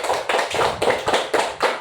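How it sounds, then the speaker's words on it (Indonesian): A primary-school class claps together in unison, about seven quick rhythmic bursts of hand clapping in a classroom, close and loud with no talking over it. "Tepuk tangan dong untuk semuanya"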